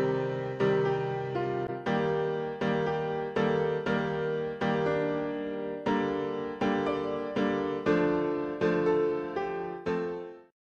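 Soundtrack-style music typical of the Final Fantasy series, with repeated bright plucked or keyed chords struck in a steady rhythm, each decaying before the next, ending with a fade to silence.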